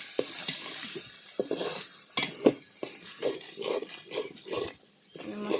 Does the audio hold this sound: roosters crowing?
no